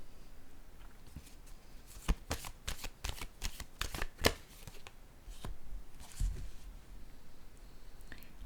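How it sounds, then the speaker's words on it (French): Playing cards are handled and set down on a table during a card reading, giving a quick run of crisp, close snaps and slaps, then softer rustling and shuffling near the end. "Je vais déposer une carte ici."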